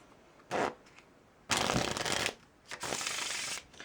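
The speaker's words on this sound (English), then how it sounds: "Now let's learn how to shuffle a deck of cards." Three bursts of a deck of cards being riffle-shuffled, a short one followed by two longer fluttering riffles, close by with no talk.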